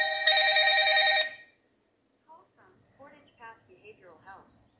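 A single bright electronic telephone ring lasting about a second, loud and close, followed by a pause and then a person speaking.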